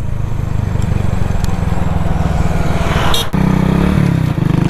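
Engine of a fully restored old Hero Splendor motorcycle putters at a steady idle, close and loud, with a brief revving blip near the end and no speech.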